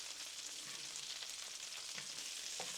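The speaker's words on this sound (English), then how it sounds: "So just add some oil in here and let them fry." Shrimp fry in oil on a Blackstone griddle with a soft, steady sizzle and crackle, quiet and continuous, with no talk.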